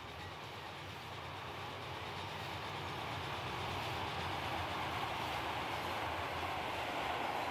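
Trains roll through a Transport Fever 2 network with a steady rumble and light wheel clatter that builds slightly louder over several seconds, with no talk over it.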